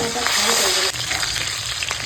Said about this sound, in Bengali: তেল গরম হয়ে গেছে এখন মাছ দিয়ে দেবো